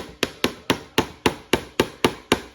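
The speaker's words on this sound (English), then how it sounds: "Good hammering, son." A hammer driving the last nail into a wooden bird house, nine sharp evenly spaced strikes about a quarter second apart, close and crisp with nothing else audible.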